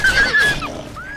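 A horse in the Elder Scrolls Oblivion video game gives a loud, close whinny that rises and wavers, then fades into a softer trailing neigh.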